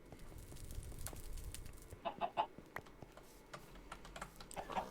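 A chicken in modded Minecraft 1.12.2 gives a few short, faint clucks in a quick cluster, surrounded by steady clattering computer-keyboard typing that runs throughout.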